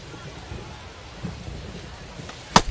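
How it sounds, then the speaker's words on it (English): Steady rain hiss from a ballgame in the MLB The Show baseball video game, even and soft throughout, with a sharp brief knock right at the end. "the rain's still a factor here"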